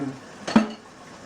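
A spoon scrapes and clinks once against a dish while stirring food, a short close tap of metal on crockery.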